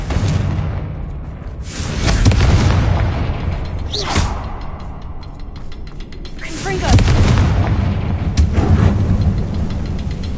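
Confringo fire spell explosions in Hogwarts Legacy, two loud booming blasts several seconds apart, each rolling into a rumbling tail, with faint voices in the background.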